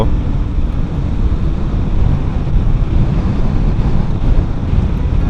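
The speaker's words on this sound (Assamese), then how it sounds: "আজি ইমান বতাহ, ইমান উইণ্ড ব্লাষ্ট, মই নাজানো অডিঅ' কোৱালিটি কেনেকুৱা হ'ব।" Strong wind buffets the microphone in a constant low roar on a dusty riverbank of the Bharali River, with no voices.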